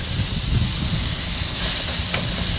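Ham and pineapple kabobs sizzling on a hot grill, a steady, loud hiss that carries on without a break and without talking.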